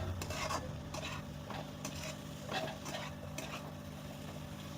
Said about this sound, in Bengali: 1 থেকে 2 মিনিট নেড়ে নেব।